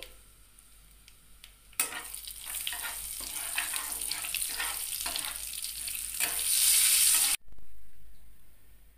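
A spice tempering of black cumin and dried red chillies fried in oil and stirred with a spatula. A sudden burst of sizzle is followed by rhythmic scraping strokes, swelling louder near the end before cutting off abruptly.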